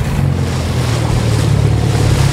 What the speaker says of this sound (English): Just floating down a river.